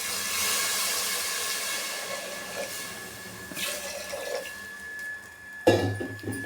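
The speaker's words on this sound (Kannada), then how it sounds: "ಬೇಳೆ ಕೂಗೋದಕ್ಕೆ ಎಷ್ಟು ನೀರು ಬೇಕೋ ಅಷ್ಟನ್ನು ಹಾಕ್ಕೋತಾ ಇದ್ದೀನಿ" Water gushes steadily into a pressure cooker pot holding lentils with oil and turmeric for mango rasam, then fades, followed by a brief clatter near the end.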